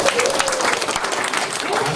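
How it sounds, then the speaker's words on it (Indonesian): An audience claps steadily in a hall during a business talk, a dense continuous round of applause with a voice faintly mixed in. "Tepuk tangan dong buat kalian dong."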